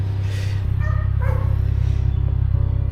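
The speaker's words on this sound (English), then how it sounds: "That's a weak bark, buddy." A dog lets out a few weak, yippy barks and whimpers, fairly faint over a steady low engine drone inside a moving 370Z Nismo car.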